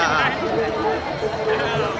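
Dense crowd of devotees at the Sant Dnyaneshwar Maharaj samadhi festival by the Indrayani, a steady close wash of babble and shuffling footsteps with no pauses.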